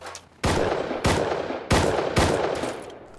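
Gunfire in a multiplayer shooter video game rings out as four loud, sharp shots spaced roughly half a second apart, each with a short decaying tail, with no talking over them.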